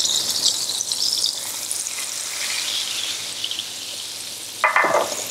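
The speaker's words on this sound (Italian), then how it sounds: "L'olio bolle bene" Floured veal scaloppine frying in a pan of bubbling oil, a steady loud sizzle throughout with a brief louder crackle near the end.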